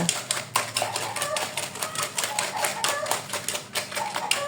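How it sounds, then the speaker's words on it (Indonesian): A wire whisk beats batter for a peanut snack in a bowl, giving a fast, steady run of light metallic clicks and taps that continues close up without a break. "Kemudian saya kocok menggunakan whisker."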